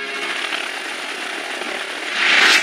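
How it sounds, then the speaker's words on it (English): A steady whirring stealth helicopter drone fills the air in an anime, loud and continuous, swelling louder near the end as it passes close. "A stealth helicopter!"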